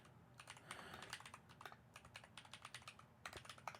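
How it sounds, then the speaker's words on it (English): Rapid, irregular keystrokes on a computer keyboard clatter in close, quiet bursts of several clicks with short pauses between them, no voices present. "I'm typing right now"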